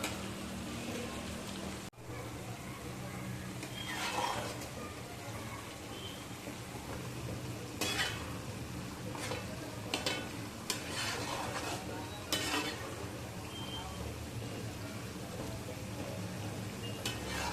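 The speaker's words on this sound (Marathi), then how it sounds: "ह्या स्टेपला सारखा हलवत राहायचं कांदा आता" Onions frying in a pan while being stirred for Maharashtrian kala masala, a steady sizzle throughout with several brief scraping stirs, close and moderately loud, no talking.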